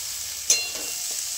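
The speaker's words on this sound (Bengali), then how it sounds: "এরকম করে ভালো করে নাড়িয়ে চাড়িয়ে নেব" Vegetables and chilli chicken frying in a pan give a steady bright sizzle, with one sharp scrape of stirring near the middle.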